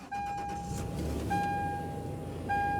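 A supercharged 2004 Toyota Tacoma SR5 TRD is keyed on, with a brief key jingle, a steady ignition chime tone and a short cranking rumble as the engine catches and idles.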